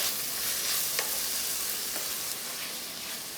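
Tomatoes with coriander-cumin powder and Kashmiri red chili powder cook in a pan with a constant close sizzle, while a spoon stirs through them in a few brief scraping strokes.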